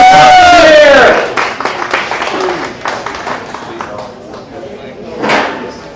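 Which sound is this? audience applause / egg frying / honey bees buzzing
audience applause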